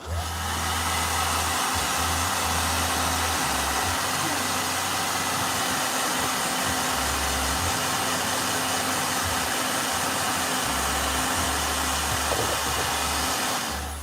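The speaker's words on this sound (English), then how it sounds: "Let me get a little more blow dryer" A handheld blow dryer runs steadily, loud and continuous, drying wet watercolor paint on a practice painting, its motor hum and rushing air unbroken throughout.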